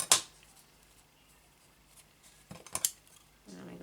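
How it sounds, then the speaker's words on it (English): Scissors snipping paper for Christmas altered paperclip crafts, a sharp cut at the start and another short cluster of snips near the end, close and fairly quiet, with a near-silent pause between them. "Just going to snip in there."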